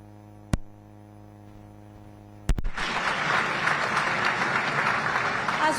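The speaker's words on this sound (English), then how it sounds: "A bigger round of applause, please, for the man who leads the soldiers and the armed forces that continue to sacrifice." Applause breaks out at a Nigerian state government event after a steady mains hum, filling the room with dense clapping from a crowd that continues without fading.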